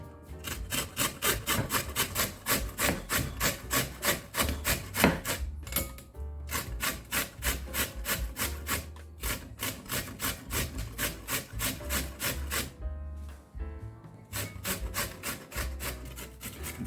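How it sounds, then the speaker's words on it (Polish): Steady, rapid scraping of a beet being rubbed back and forth across a coarse grater, a rhythmic rasping with a couple of brief pauses. "Teraz zeprę buraki na grubych oczkach."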